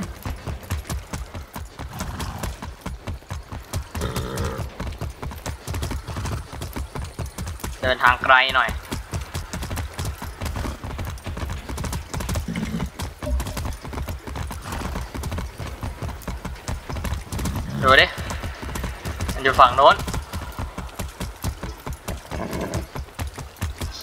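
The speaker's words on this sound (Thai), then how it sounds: "ขี่ม้าไปครับท่านผู้ชม" Horse hooves clip-clop in a steady, continuous trot while riding in Far Cry 6, with occasional brief whinnies and someone talking over the hoofbeats throughout.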